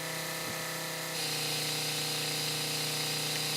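A Frost Inc. 50 gallon sprayer runs with one tip shut off: a steady pump drone and fine spray hiss, whose pitch and level shift abruptly early on before settling into a constant tone.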